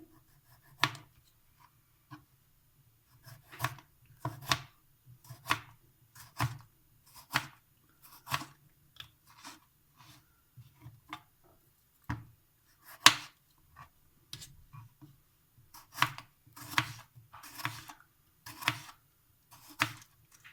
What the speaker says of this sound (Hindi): टमाटर हम काट लेंगे।